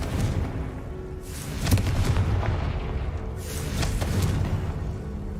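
A Confringo fire spell from Hogwarts Legacy bursts twice, each a deep booming blast with a rolling rumble, the first around the middle and a second toward the end, loud and close over a steady low game backdrop.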